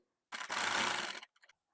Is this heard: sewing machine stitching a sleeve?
yes